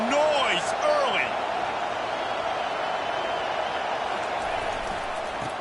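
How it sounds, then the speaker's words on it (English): A football stadium crowd at a Texas A&M season opener keeps up a steady, roaring wash of cheering and noise. A few sharp squeaks and whistles rise above it early on. "This crowd bringing the energy and noise early."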